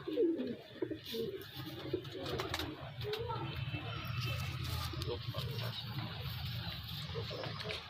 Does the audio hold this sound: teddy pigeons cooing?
yes